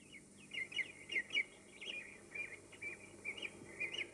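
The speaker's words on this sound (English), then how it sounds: "The birds were singing." Bright birdsong from a children's TV show on a summer farm scene: repeated chirps and short warbling phrases in bursts, fairly close and clear over a soft background, with no talking.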